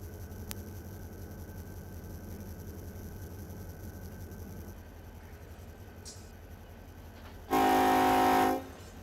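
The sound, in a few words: train passing in the video game Run 8 Train Simulator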